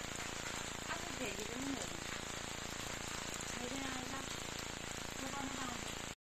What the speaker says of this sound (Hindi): अब चुपचाप छुप रहा वहां पर बारिश हो रही